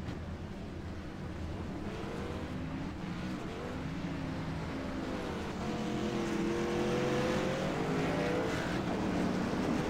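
Race cars drive onto pit road during a 40-lap race, their engines producing a steady, continuous roar with rising and falling pitch sweeps as the cars pass at a middle distance, with no talk over them.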